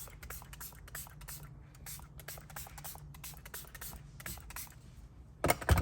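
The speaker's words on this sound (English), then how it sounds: "Just spray water onto Screen Protect now." Short hissing bursts of water from a spray bottle misted onto a screen protector inside a BMW, a quick series of close, faint squirts in a quiet interior, ending with a louder rustle.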